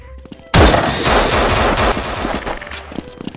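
Dense burst of automatic gunfire in Garry's Mod DarkRP, erupting suddenly and loud, rapid shots rattling continuously then tapering into scattered reports.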